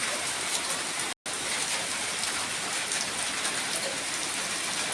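Steady rain falling outside a house in the Philippines, a dense, even hiss of drops on surfaces that holds constant and continuous throughout, with one very brief dropout near the start and no voices.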